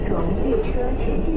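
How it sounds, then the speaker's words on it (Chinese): A subway train pulls into a station, a brief low rumble and rattle of the rail cars heard under a voice talking. "可就在此时，地铁到站了"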